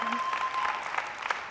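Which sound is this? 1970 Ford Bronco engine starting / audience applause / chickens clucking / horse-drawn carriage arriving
audience applause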